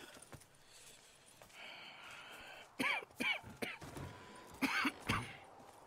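A man coughs in two short rough bursts over quiet outdoor ambience in the video game Red Dead Redemption 2, the fits separated by a brief pause.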